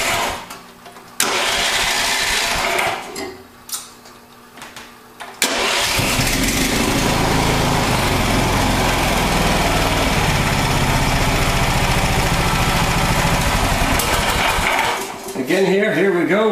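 A Lifan small engine is cranked with a key-start, catching after a couple of attempts and then running loud and steady at idle, with a brief voice near the end.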